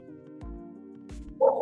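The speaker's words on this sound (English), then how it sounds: "Dog." A dog barks once close by with a short sharp bark at the end, after a quieter stretch of low hum and faint indoor sounds.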